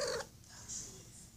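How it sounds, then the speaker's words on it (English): A house cat lets out a short, brief vocal cry right at the start, followed by quiet room tone with faint rustling. "Oh, and that's a cat."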